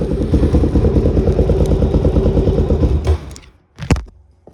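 Suzuki DRZ 400 SM motorcycle with a leaking pair valve and petcock, a steady loud close engine rumble for about three seconds, then cutting out before a sharp brief burst, heard alone with no talk.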